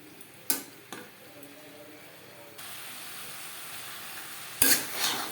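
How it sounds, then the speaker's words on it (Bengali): Potatoes and eggplant stirred with spices in a little oil over a medium flame for a pabda fish curry: a few metal spatula scrapes and clinks over a soft sizzle that swells louder halfway through. "মিডিয়াম ফ্লেমে আলু ও মশলার সাথে বেগুন আরও 3-4 মিনিট নাড়াচাড়া করে নেব।"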